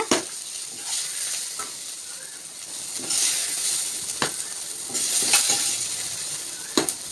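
Tempering being stirred into cabbage and chana dal kootu in a pan, bursts of sizzling hiss with sharp spoon scrapes and clinks against the pan at irregular intervals.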